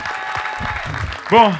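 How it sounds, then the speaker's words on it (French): Applause from an audience rises under a speaking voice, ending with a louder burst of cheering and clapping. "applaudissez-la encore bien fort"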